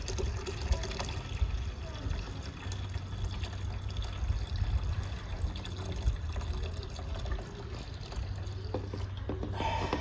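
Water runs steadily from a tap for about ten seconds, a continuous splashing, trickling flow that stays fairly loud and even throughout, with only faint background noise and no clear talking.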